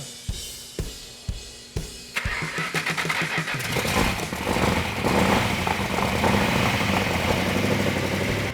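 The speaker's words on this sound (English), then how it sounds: "The 446 back engine fired right up" A Dodge Challenger's 446 V8 cranks with several rhythmic starter turns, catches and fires, then settles into a loud, rough, continuous idle close by.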